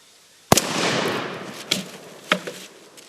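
An Adler Pardus shotgun fires one sharp, loud outdoor blast followed by a long decaying echo, then two softer impact-like cracks trail after.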